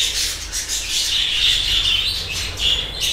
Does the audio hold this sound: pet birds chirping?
yes